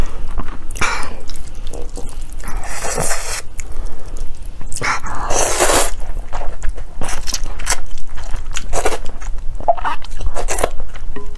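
Loud, close crunching bites and wet chewing of spicy noodles dressed with sesame paste, in repeated bursts of mouth sounds with no talk.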